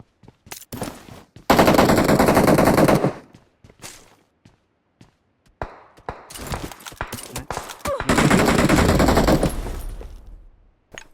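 Automatic weapon fire in the PUBG video game, two long loud bursts of rapid shots with scattered single shots and quieter gaps between them.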